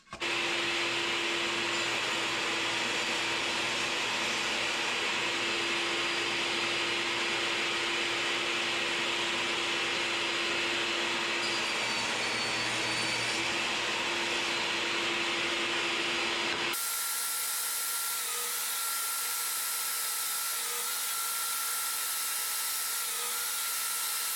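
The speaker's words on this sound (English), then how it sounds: "we'll take this over to the sled on the table saw, cut this into pieces" A table saw with a sled cuts a glued walnut block into pieces, a steady loud whine and roar for about seventeen seconds, then the blade noise shifts to a thinner, higher spin-down hum.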